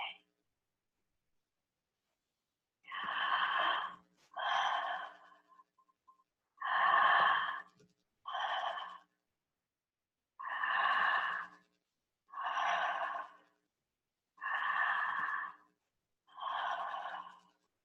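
Circular breathwork breathing during a guided session: eight slow, even breaths, each a smooth breathy rush lasting about a second, spaced roughly two seconds apart, close and clear against silence.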